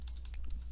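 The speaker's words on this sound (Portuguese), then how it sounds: "eu vou digitar aqui um texto" Short burst of keystrokes on a computer keyboard while entering text in Word 2010, a few quick close taps over a steady low hum.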